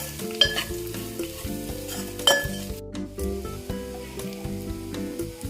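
Bitter gourd fry is stirred in a pan with chili powder just added, a close steady sizzle broken by metal spoon clinks and scrapes against the pan, with no talking.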